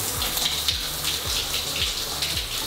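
Shower water running steadily in a home bathroom during a morning routine, a continuous broadband hiss and splash close by with a faint low rhythmic thumping underneath, no voices.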